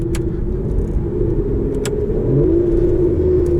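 A 2014 Aston Martin Vanquish engine rumbles deep and loud from the cabin, its tone rising as it revs near the end, with a couple of faint clicks over the drone.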